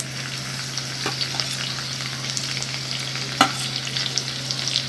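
Mustard seeds, cumin and crushed garlic cloves tempering in two spoons of hot oil for raw mango dal: a continuous close sizzle with light stirring scrapes and a sharp pop near the end.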